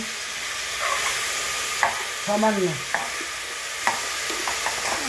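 Vegetables and garlic stir-fry in a kadai with a continuous sizzle, broken by the scrape and clatter of a spatula several times; a voice briefly speaks over it.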